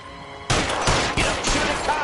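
Gunfire from the video game L.A. Noire in a looting shootout with police. A sudden loud volley of several rapid shots is close and harsh, and it carries on in a dense burst for about a second and a half.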